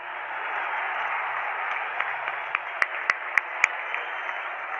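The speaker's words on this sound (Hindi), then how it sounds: "জোরে হাততালি দেবেন।" Crowd at a political rally, a broad wash of distant applause building steadily, with a few sharp nearby claps standing out toward the end.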